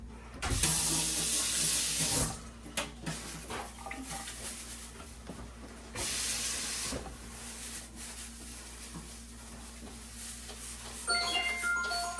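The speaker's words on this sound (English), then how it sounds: "you may want to put a little bit water there to clean the rest" Water runs from a tap into a sink while a Beaumark fridge drain is cleaned during a bottom-leak repair, a steady hiss and splash with brief louder bursts, no talking.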